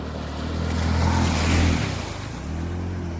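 Floodwater pouring into Modran village where it backs up near an under-construction railway underpass, a continuous loud rushing roar of moving water, swelling and easing slightly, with no speech.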